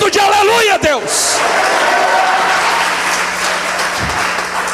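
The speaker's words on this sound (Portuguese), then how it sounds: "dá uma salva de palmas e um grito de aleluia" A church congregation bursts into sustained, loud applause right after a brief raised voice, the clapping dense and even, with crowd noise mixed in.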